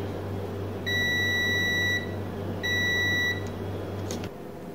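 A multimeter in continuity mode beeps on a shorted SS14 diode in a BOSS PH-3 pedal under repair: two sustained, steady electronic tones, each about a second long, loud and close.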